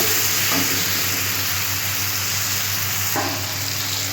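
Tomatoes and onions frying in a pan for a spicy river-fish curry, giving a loud, steady sizzle and hiss throughout with a couple of faint stirring knocks and no voices.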